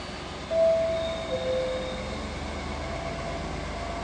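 A Trenitalia regional train rumbles steadily into an Italian station near Padua, with a brief louder swell and a couple of faint tonal whines, no voices.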